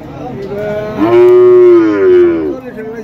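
A large cow at a cattle market lets out a single loud, drawn-out moo close by, lasting about a second and a half.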